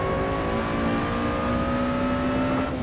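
In the racing sim Assetto Corsa, a race car engine drones close and steady, its pitch shifting slowly as the driver rev-matches a downshift, with no voices over it.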